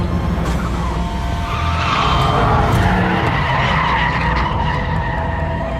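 A Mitsubishi Lancer Evolution X rally car skids hard, its engine revving loudly under a continuous scrubbing tire noise that swells and holds, close and unbroken.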